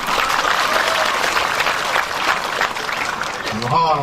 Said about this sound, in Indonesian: Tepuk tangan Pak Bupati.